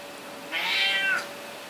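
A house cat gives a single clear, drawn-out meow close by indoors, rising and then falling, with quiet room tone before and after.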